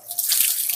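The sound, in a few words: water scooped and poured with a gayung dipper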